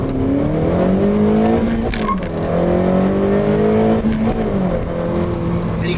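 A 2013 Acura ILX with a 6-speed manual accelerating hard through a turn, engine note climbing loudly and steadily, dropping briefly at a gear change before rising again, with a short tire squeal.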